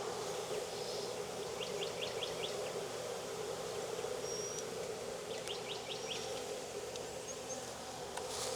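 Honey bees buzz around a swarm being hived in a modified Demaree setup in Jacksonville, Florida, a steady faint drone with short chirping birdsong coming through in the background.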